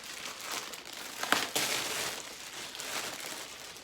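Packaging around a new Tour Edge Exotics 722 golf metalwood is torn and crumpled by hand, a close, continuous crinkling and ripping of plastic and paper with a sharper tear midway.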